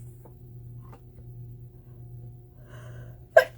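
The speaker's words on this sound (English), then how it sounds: "Excuse me, I had to sneeze there." A single sharp sneeze near the close, sudden and loud against a quiet room with a low steady hum and faint handling sounds, during a stamping craft demonstration.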